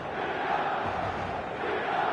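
Stadium crowd noise in a football video game before kickoff: a dense, continuous roar of many voices, broad and steady, with no clear peaks or individual calls standing out.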